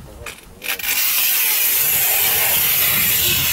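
A tile cutter slices through large-format tile with a loud, continuous grinding rasp that starts abruptly after a few brief scraping sounds and holds steady to the end.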